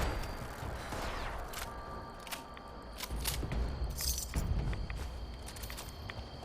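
Gunfire in the video game Fallout 76, with a series of sharp, irregular shots and bursts alongside footsteps and clattering, moderately loud and close.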